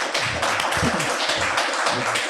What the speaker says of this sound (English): So please, everybody, give a round of applause to the two guests